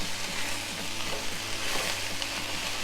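Vegetables including capsicum stirred in a hot pan for veg hakka noodles, a steady sizzle with faint scraping stirs, continuous and close, no talking.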